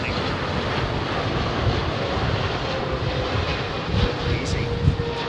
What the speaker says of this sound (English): That's a clean landing.